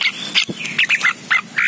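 Tame starlings in an aviary give a rapid run of bright squawks, whistles and chattering calls, loud and close, with short gaps between bursts and no talking.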